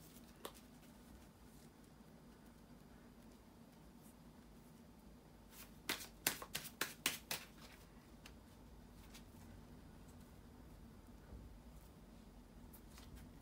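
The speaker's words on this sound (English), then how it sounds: "bear with me a second, guys, to shuffle the tarot cards" A short burst of rapid riffling of tarot cards in the middle, a quick run of crisp flutters against a quiet room.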